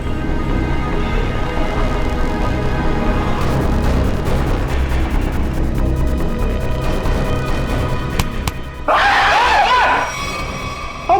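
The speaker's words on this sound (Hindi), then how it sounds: "लड़की की तरह चीखता क्यों है?" A man screams in a Hindi crime drama scene, a brief, loud, wavering cry near the end that rises over a dense, rumbling dramatic soundtrack.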